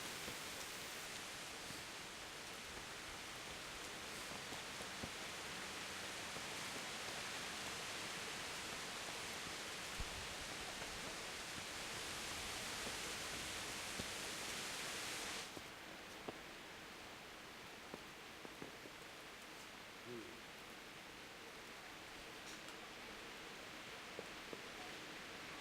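Steady rain falls in the medieval open-world game Kingdom Come: Deliverance, a constant broadband hiss that runs alone for the whole stretch, briefly louder in the middle before easing slightly, with scattered faint ticks and no voices.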